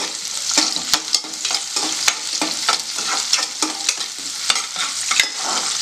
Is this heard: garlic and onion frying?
yes